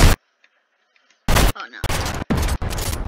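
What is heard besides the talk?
sniper gunfire in a video game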